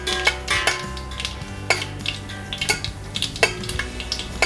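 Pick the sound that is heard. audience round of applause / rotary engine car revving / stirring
stirring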